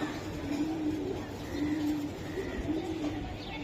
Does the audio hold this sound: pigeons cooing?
yes